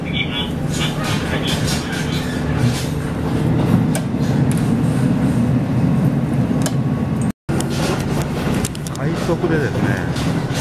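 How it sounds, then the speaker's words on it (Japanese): A Japanese rapid train in Mie Prefecture rumbles along the rails with a steady low drone and occasional clatter, heard from inside a carriage, with a brief dropout partway through. "これです、この電車です。"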